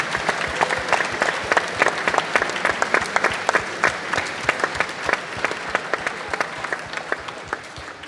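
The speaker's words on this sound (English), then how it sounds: "We would just like to give you, if you would give a round of applause, please, for Mr. Conor Hayes and Ms. Niamh McCarthy," A crowd applauds steadily, dense clapping filling the room for several seconds without pause.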